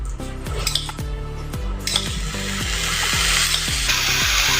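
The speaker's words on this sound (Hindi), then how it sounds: "अभी इसमें हम थोड़ा सा दूध डालेंगे" Spoon clinking and scraping against a pot while milk is stirred into a sugar and coconut laddu mixture, a steady run of close metallic taps with a soft wet sizzle underneath.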